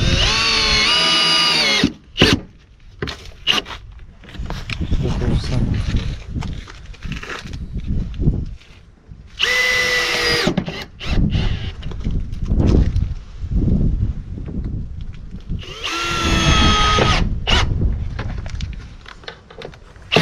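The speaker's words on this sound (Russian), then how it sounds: "И край мы закручиваем саморез чуть-чуть с небольшим люфтом." A power screwdriver drives self-tapping screws into facade battens during facade panel installation, giving three loud, close bursts of whirring motor and grinding, with rattling handling noise between them and no speech.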